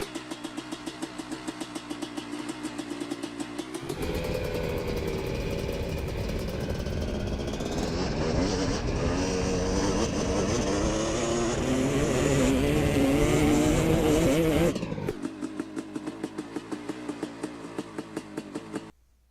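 Simulated motocross engine from the MX Bikes game held in third gear, first a steady idle-like pulsing, then a loud sustained rev with rising and falling pitch for about ten seconds before dropping back to the pulsing idle.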